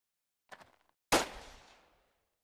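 A single sharp gunshot in the video game Jagged Alliance: a faint click-like rattle, then one loud bang with a quick fading tail, heard alone.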